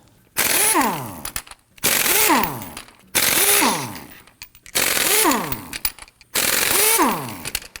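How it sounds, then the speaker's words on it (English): A power impact tool with a 21mm socket loosens lug nuts on a 2015-2024 Nissan Murano wheel, giving five separate loud whirring bursts with rising and falling pitch, evenly spaced and separated by brief pauses. "let's go ahead and use our 21mm socket to loosen and remove these lug nuts"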